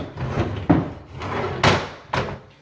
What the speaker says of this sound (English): Little slow self-closing drawers